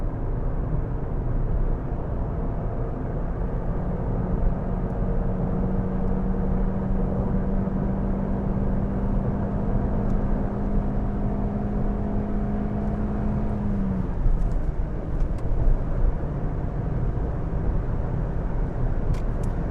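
Ford Fiesta ST mk7 hot hatch driving, a steady engine drone with a held note that drops away near the end, continuous road and cabin noise throughout, no voices.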